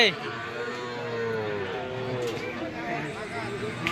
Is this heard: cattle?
yes